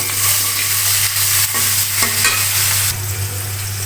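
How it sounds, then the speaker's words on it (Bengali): Onions frying in a kadai after meat curry, with salt added: a steady, close hiss of sizzling oil with a few soft stirring scrapes and a low electrical hum underneath, and no talking. "পেঁয়াজটা একটু ভালো মতো ভাজা হোক"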